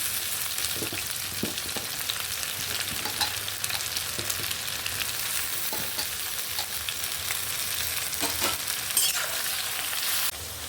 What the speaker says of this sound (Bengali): হালকা লাল লাল করে ভেজে নেব খুব ডিপ লাল করব না